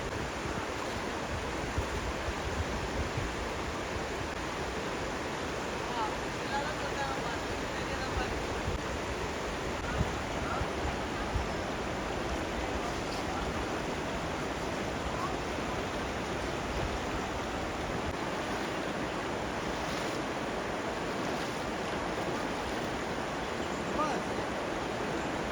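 Athirapally waterfall pouring continuously, a dense, steady roar of rushing water that holds evenly without pause from start to finish.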